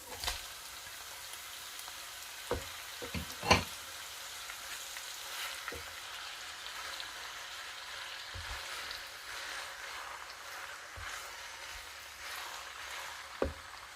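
Minced mutton fries in a pan over a full flame, a quiet steady sizzle with scattered crackles and a few louder pops and scrapes, no voices.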